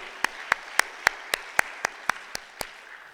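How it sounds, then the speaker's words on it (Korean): Evenly timed claps at a Friday church worship service, about ten sharp hand claps in a steady rhythm, as if the congregation claps in unison, fairly faint over a quiet room. "다시 한번 하나님께 영광의 박수 드립니다."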